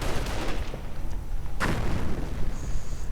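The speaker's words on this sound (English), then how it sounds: "Mortar fire on the Grenadiers" Mortar fire booms in a World War II strategy game, dense and continuous, with a sharp blast near the middle over rumbling battle noise.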